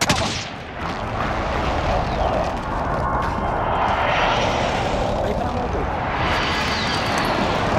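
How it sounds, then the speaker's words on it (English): Precision airstrike explosions in Call of Duty: Modern Warfare, a loud, continuous barrage of rumbling blasts and aircraft roar that fills the whole moment, with players talking over it. "Enemy precision airstrike."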